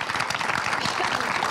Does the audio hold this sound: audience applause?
yes